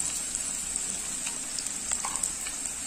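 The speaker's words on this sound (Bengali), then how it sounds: "মশলা ভালোভাবে কষাই করে নেব" Spices sizzling and frying steadily in a pan, with garlic paste, chopped green chillies and turmeric, for a village-style Bengali curry with prawns and potatoes; a continuous close hiss broken by occasional soft stirring clicks, with no talk.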